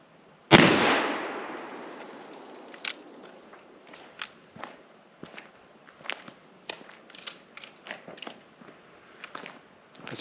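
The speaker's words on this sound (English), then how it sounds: "we're only gonna do the one shot on this. And this is the 300 grain cast wide flat nose 45 Colt plus P." A single loud gunshot from a Marlin 1894 lever-action rifle firing a 300 grain cast wide flat nose 45 Colt +P load cracks sharply and rings out briefly, followed by quieter scattered clicks, shuffles and footsteps.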